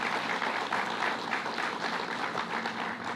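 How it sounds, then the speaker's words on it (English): An audience at a bill-signing event applauds for the county executives, a continuous, moderately loud patter of many hands clapping that lasts the whole stretch without speech. "Let's give them both a round of applause again"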